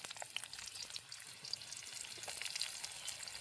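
Curry leaves and finely chopped onion frying in hot oil already crackling with cumin and mustard seeds, for a Marathi brinjal bhaji; a soft, steady sizzle with small pops, fairly faint and without speech.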